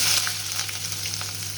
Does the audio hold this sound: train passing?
no